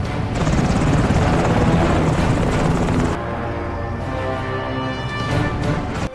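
A loud, steady helicopter rotor roar fills an action film scene, dense and continuous, shifting slightly in tone partway through amid other action noise.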